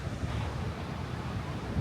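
Ocean surf rolls in along the Great Ocean Road coast near the Twelve Apostles, a steady, full, close roar of breaking waves mixed with wind buffeting the microphone, with no break throughout.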